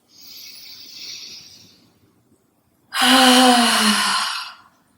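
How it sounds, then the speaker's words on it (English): A big exhale out through the mouth at the close of a power yoga class, preceded by a softer breath, then a loud, breathy, sighing release lasting about a second and a half before fading out. "a giant exhale out through the"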